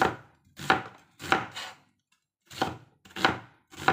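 A knife slices through a tomato on a board in quick bursts, about six close, crisp cuts separated by short pauses, with no talking.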